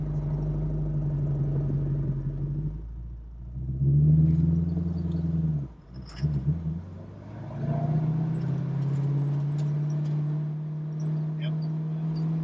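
A 1968 Mustang Fastback engine idles with a low rumble, drops out briefly as it stalls, then catches again and settles back to a steady idle, close by, with people talking.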